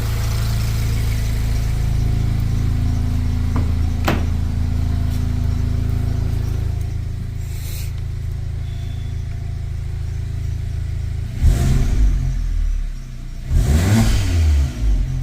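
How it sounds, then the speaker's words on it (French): A turbocharged Volkswagen Golf 7 R engine idles with a low rumble after injector seal replacement, then revs hard twice near the end, rising and falling sharply; no one speaks. "Attends, on entend le turbo."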